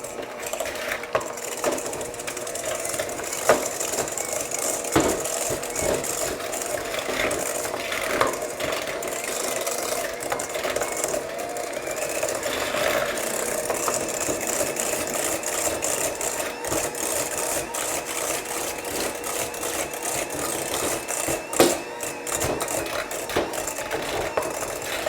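An electric mixer whirs continuously through chocolate chip cookie dough being mixed until smooth, a steady motor drone with rattling beater clicks and occasional knocks against the bowl, close and unbroken.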